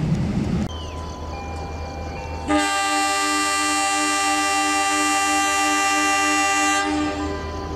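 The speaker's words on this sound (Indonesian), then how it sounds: "Kereta api lokal Garut Cibatuan ya diberangkatkan" A train horn blares loud and steady for several seconds over the low rumble of the Garut–Cibatu local passenger train departing a station in Indonesia, preceded by station ambience.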